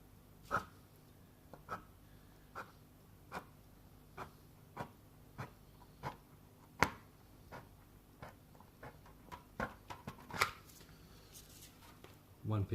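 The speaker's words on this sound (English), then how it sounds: "I'll cut across the front of the trailer." Hand cutting of material across the front of a scratch-built RC trailer, a series of sharp, quiet clicks and snips spaced irregularly about a second apart in a still room.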